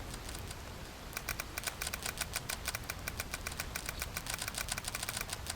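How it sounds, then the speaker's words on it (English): Quick, regular clicking that repeats over and over and starts after a short pause, sounding faint and somewhat distant above a low background hum in an Arma 3 game session. "What is actually making the clicking upstairs?"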